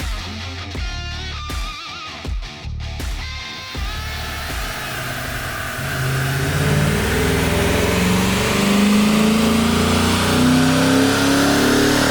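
A Dodge 5.7L Hemi V8 fitted with an aftermarket intake, headers and camshaft, running on a dyno: a few loud blips at first, then one long sustained rev that climbs steadily in pitch, close and loud.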